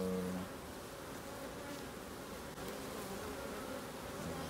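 Dense, steady buzzing of many honeybees around an opened hive fills the whole stretch at close range, loud and continuous with no voices over it.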